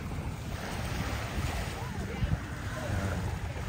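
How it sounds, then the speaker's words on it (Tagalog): Ocean waves on a beach at a Subic resort in Zambales, a steady broad wash of surf mixed with wind buffeting the microphone, continuous and fairly close. "Dalampasigan. Ayan o. Ayan, naliligo guys."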